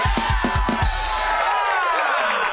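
A studio audience cheers and whoops loudly at close range, and a few rhythmic stomps or thumps open the burst before it settles into sustained hollering.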